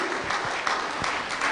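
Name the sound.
audience applause for a sheikh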